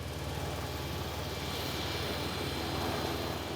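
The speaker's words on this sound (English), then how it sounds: "Now flying his nuclear bomber is his full-time hobby." Jet engines of a nuclear bomber aircraft flying over South Africa give a steady, dense roar with a broad hiss on top, unbroken and fairly loud throughout.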